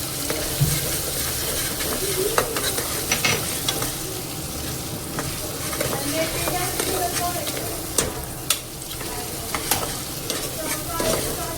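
Tomatoes with ginger-garlic paste sizzle in a hot pan for veg pulao, a steady close frying hiss broken by scraping spoon strokes and sharp clicks as the mixture is stirred.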